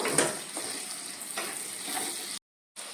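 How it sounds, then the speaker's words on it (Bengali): Finely chopped ginger and garlic sizzle softly in a pan while being stirred for soya chilli, a low, steady frying hiss with a few faint scrapes and no talking. "এটা একটু ভাজা ভাজা হোক"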